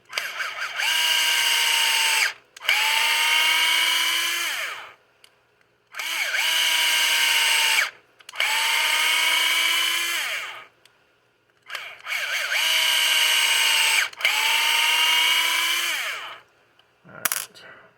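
Power driver running screws into an RC car differential during a build, in five bursts of steady whirring of about two seconds each, separated by short pauses, close and loud with no talking.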